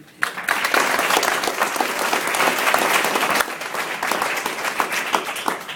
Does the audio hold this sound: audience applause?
yes